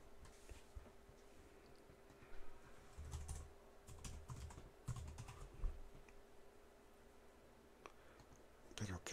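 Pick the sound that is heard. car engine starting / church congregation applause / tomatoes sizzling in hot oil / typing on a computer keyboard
typing on a computer keyboard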